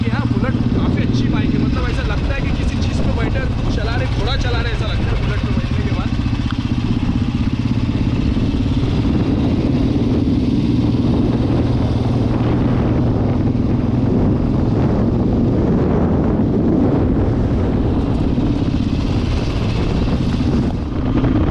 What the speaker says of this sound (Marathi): ये 350 चलाई, काफ़ी अच्छी बाइक है।